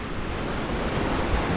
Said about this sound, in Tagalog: Ay, umaabot dito yung tubig. Grabe, lakas ang alon.